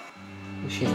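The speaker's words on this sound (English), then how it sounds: "Hoover" A Hoover vacuum cleaner runs nearby with a steady, tonal motor hum that swells louder toward the end.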